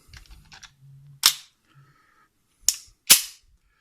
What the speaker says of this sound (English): we're going to load in a snap cap here, and I'll put it in for you